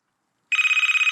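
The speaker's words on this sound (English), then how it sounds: "it's the phone that makes me jump" A telephone rings with a bright, rapidly pulsing electronic trill, starting suddenly after a moment of silence and continuing steadily and close, with no voices.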